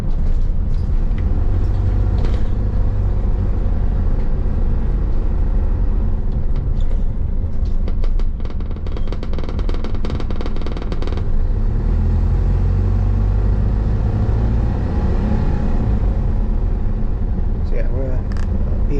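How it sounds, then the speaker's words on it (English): Stagecoach Optare Solo bus, an 06 plate, driving toward Cwmbran heard from inside the cabin: a loud, steady engine and road rumble throughout with rattling and vibration, while someone talks over it. "on board a Stagecoach Optare Solo, making our way over to Cwmbran"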